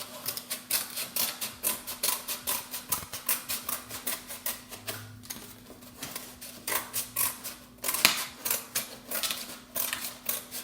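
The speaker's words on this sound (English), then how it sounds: "because you need to get the scissors to do this" Scissors snip repeatedly through a paper plate to cut out a circle for an Easter egg wreath, a brisk, close run of crisp clicking cuts with no talking.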